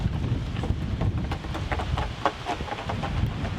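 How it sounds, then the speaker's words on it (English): Strong wind gusting around a damaged awning outdoors, a loud continuous rumbling roar buffeting the microphone with uneven surges throughout. "this wind is horrible"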